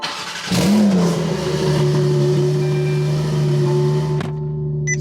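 A car engine revs up sharply and then settles into a steady, throaty idle at close range, with a brief mechanical clunk near the end and no talking.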